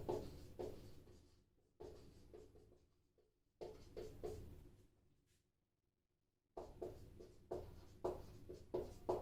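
A marker or chalk scratches across a classroom board during a lecture on Rajasthan history, coming in short, busy bursts of strokes separated by quiet pauses, close and clear.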